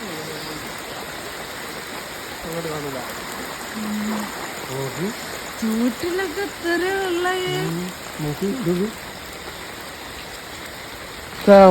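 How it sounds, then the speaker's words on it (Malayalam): Steady heavy rain pours down as a continuous wash of noise while people talk over it. "മഴയുണ്ട് അതില് നാല് മണി തൊട്ട്"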